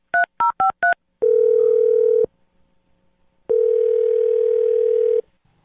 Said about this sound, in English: All right, Andy, I'm going to dial her phone number right now.